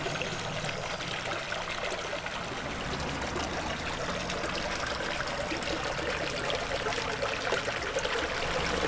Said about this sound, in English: This is that trickling, it's so lovely,